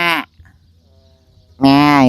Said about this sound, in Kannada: ಎಷ್ಟೊಂದು ಕುರಿ ಇದಾವ ಗುರು.